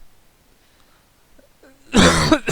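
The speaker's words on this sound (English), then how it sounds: "Excuse me for the cough." A single loud, harsh cough bursts out close by after near silence, during a card-game draft session.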